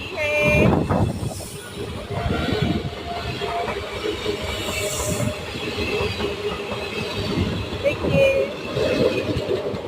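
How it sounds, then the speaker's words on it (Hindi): A train rolls through Kadur railway station, its wheels clattering and squealing steadily for the whole stretch, close and loud, with a faint voice now and then underneath. "ट्रेन जा रही है।"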